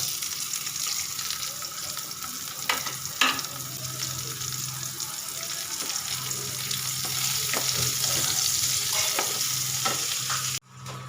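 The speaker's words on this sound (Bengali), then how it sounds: "এদিকে আমার কালো জিরে দেওয়ার পর এর মধ্যে আমি দিয়ে দেবো এই কেটে রাখা পেঁয়াজ আর রসুন" Chopped onion and garlic fry in oil with nigella seeds in a home kitchen pan. A continuous, fairly loud sizzle is punctuated by occasional stirring clinks, then cuts off abruptly near the end.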